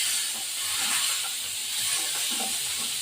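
Steady broadband hiss of potatoes and tomatoes frying in a pan, a continuous sizzle with no talking.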